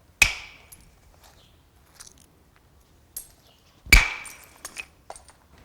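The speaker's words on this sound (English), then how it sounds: "a hardwood, like this piece of boxwood, can be used for direct knapping" A boxwood hammer strikes stone in direct knapping, two sharp ringing cracks a few seconds apart, each followed by small tinkling flakes and lighter taps, close and clear against near silence.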